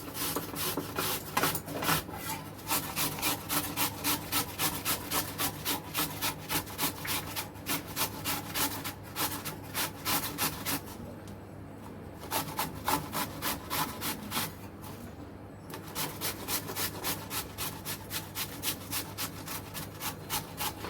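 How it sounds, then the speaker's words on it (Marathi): A large whole cucumber, skin on, being grated against a hand grater in a home kitchen, a steady rhythmic rasping of quick back-and-forth strokes, close and continuous, with two brief pauses. "आता ही काकडी आपल्याला किसून घ्यायची"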